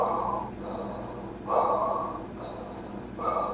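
A voice imitating Darth Vader's mechanical breathing: three slow, rasping breath cycles, each a harsh hissing inhale or exhale about half a second long with quiet pauses between, close and fairly soft.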